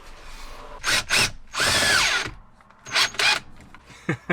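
Power tool driving a screw into trim on an Audi A3/S3 8V car, several short whirring bursts with one longer run in the middle and a few quick final pulses, close and clear, no talk.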